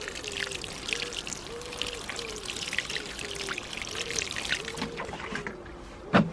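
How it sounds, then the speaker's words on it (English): Water is poured by hand onto freshly planted young plants in a garden, a steady trickling splash running throughout with a louder splash near the end. "A little bit of water on those."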